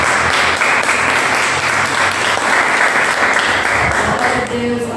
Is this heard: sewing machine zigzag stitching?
no